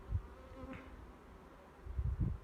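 Honey bees buzz in an opened hive during a beekeeping inspection of a queenless colony: a low, steady hum runs throughout, with a few dull handling thumps near the start and end and no talking.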